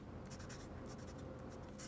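A Lamy Studio fountain pen with a medium steel nib and Lamy purple ink writing on smooth Clairefontaine paper: a faint, close scratching with short strokes that come in quick bursts over a quiet hiss.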